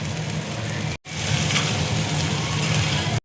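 Potatoes hitting hot frying oil for jeera aloo, a steady loud sizzle that hisses continuously, cut by two brief silent gaps.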